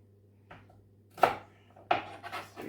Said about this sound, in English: So I'll be cutting the green bean